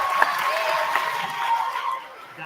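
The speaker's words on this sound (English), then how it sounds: "Please give those 5 teams a round of applause" Audience claps for five teams at a school Battle of the Books contest, a brief dense round of applause with a few voices mixed in, fading toward the end.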